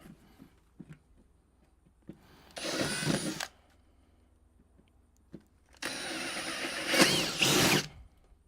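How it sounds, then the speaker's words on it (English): A power drill bores holes in a garage, running in two loud whirring bursts of about one and two seconds, separated by quiet moments with faint handling clicks. "Or I can just drill like 7 holes."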